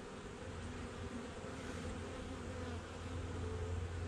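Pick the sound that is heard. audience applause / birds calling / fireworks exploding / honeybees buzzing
honeybees buzzing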